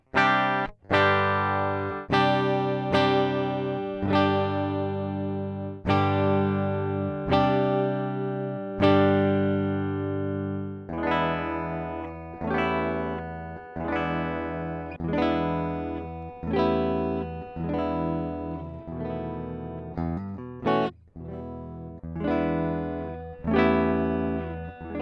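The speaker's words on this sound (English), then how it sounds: "It's time to have some fun and plug this guitar in. I'll start with some direct clean tones." A PRS SE Zach Myers semi-hollow electric guitar plays clean, ringing chords and notes, struck repeatedly in a slow rhythm with each strum sustaining and decaying, close and clear with no talking.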